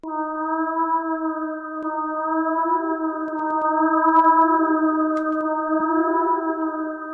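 A whale sound sample played back on a sampler: steady, layered tonal moaning that holds for several seconds with slight swells, alone and fairly loud.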